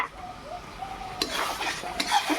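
Sour yogurt going into mutton cooking in a pot, with a spoon scraping and clinking against the pot over a soft background sizzle, a few sharper stirring strokes standing out.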